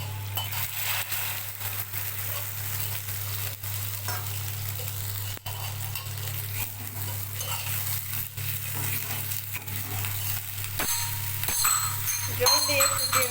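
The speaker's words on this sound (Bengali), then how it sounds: "এবার জল দিয়ে দিচ্ছি।" Chicken sizzles and is stirred in a pan with a steady frying hiss, then water poured in near the end sets off sharper bursts of spitting and bubbling as the sound grows louder.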